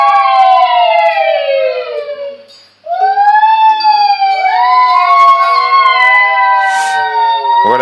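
Several children's voices imitate sirens, loud and close, with overlapping wavering wails sliding up and down, a brief pause, then more layered howling.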